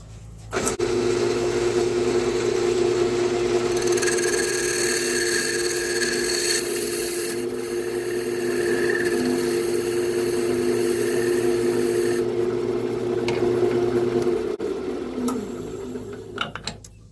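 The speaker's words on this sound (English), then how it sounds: "I'm going to go sharpen my tool real quick." A woodturning tool is sharpened on a motor-driven grinder for a cherry and walnut vase, giving a steady, close mechanical whine and hum that runs for about fifteen seconds before spinning down, with brighter grinding noise through the middle.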